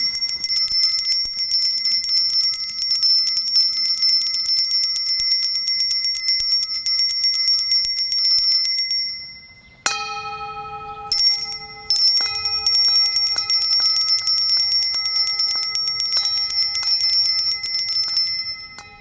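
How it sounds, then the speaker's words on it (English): Two bells, one of the sun and one of the moon, ring together in a long, bright, shimmering sustained tone that fades out, then strikes again with a brief damped pause and resumes ringing clearly. "yeah, and this is a kind of a bell of the sun,"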